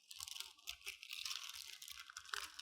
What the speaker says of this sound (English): We're going to put the specimen into these bags.